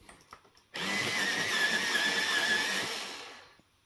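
An electric pencil sharpener grinds a colored pencil in one continuous burst of about three seconds, a whirring buzz that starts abruptly after a few faint taps and then winds down.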